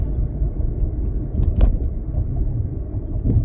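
A car being driven, heard from inside as a steady low road and engine rumble with a brief faint clink partway through and no talking.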